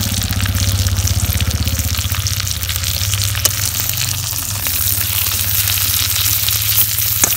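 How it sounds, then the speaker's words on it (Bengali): Chicken drumsticks fry in a pan with a dense, even sizzle and a low steady hum beneath, close and continuous without a break. "চিকেনটা 2 পিঠে উল্টে উল্টে করি বাস্তাইছি এই দেখো"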